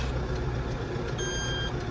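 A Landini 5-120rs tractor idles with a steady low rumble while reversing, and a thin high-pitched warning tone sounds briefly near the end.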